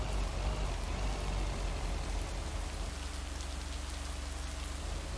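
Steady rain falls outdoors as a dense, even hiss of drops hitting the surface, with a low rumble underneath and no voices.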